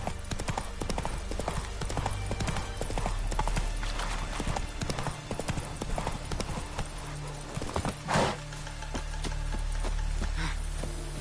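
Horse hooves clip-clop at a steady trot in the video game The Witcher 3, a close, rhythmic clatter carried over ambient game background, with a brief louder thump partway through.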